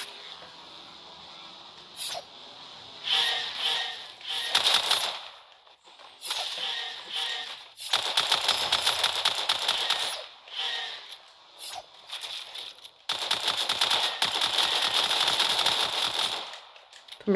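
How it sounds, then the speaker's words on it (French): Gunfire in the video game Fortnite, played in a Bed Wars match: rapid bursts of sharp automatic shots in clusters separated by short pauses, loud and close, with little talk. "Mais je rêve où ça me tire de derrière aussi"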